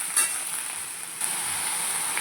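Cut eggplant sizzles steadily in a pan of hot oil with black mustard and nigella seeds as it is stirred, a close, even frying hiss with a brief louder burst near the start.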